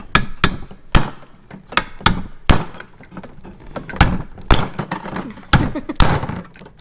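Repeated sharp, loud hammer blows ring out at close range, irregular but steady, as a suspension part is driven out of a 1971 Opel GT front end. Faint talk sits beneath the strikes.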